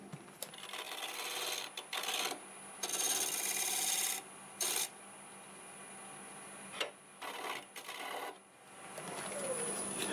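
Ingot break scraper blending a wood turning on a lathe, heard as bursts of harsh scraping of varying length separated by quieter stretches under a faint motor hum.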